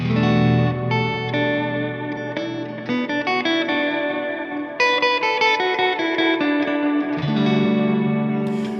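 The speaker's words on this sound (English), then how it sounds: "now you can hear pretty clearly the notes that I'm playing, but it's not an over-the-top reverb sound" Electric guitar picking single notes through a reverb effect turned down, each note distinct, with a light tail of ambience behind a steady, moderately loud melodic line and no talking.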